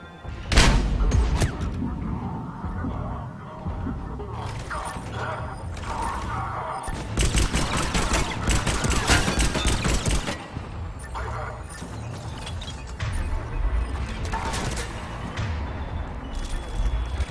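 Gunfire crackles through a firefight in the Mass Effect 3 video game, with repeated bursts and impacts layered over game music and effects for most of the stretch, rising and easing in intensity.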